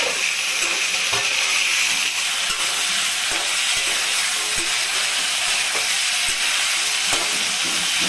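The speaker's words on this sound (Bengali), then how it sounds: "নাড়াচাড়া করে আলু আর রাঙা আলু দুটাকে নাড়াচাড়া করে এখন সজনে ডাঁটাটা দিয়ে দিচ্ছি।" Potato and sweet potato chunks fry in a pan with drumstick pieces added, making a continuous loud sizzle with scattered knocks and scrapes of a stirring spoon throughout, no voices.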